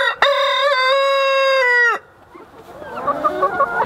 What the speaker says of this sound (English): That's the proud rooster.